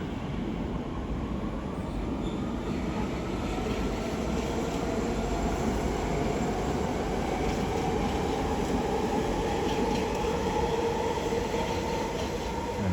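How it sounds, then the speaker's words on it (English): A London Underground Central line train pulling away from Stratford, a steady low rumble of wheels and motors with faint squeal, continuous and fairly distant, no voices. "There's another central line service departs bound for Epping."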